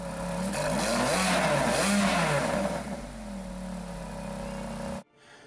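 A red Ferrari F430 Spider with a 490-horsepower engine revs hard in a series of rising and falling pitch sweeps, then settles to a lower idle before cutting off abruptly.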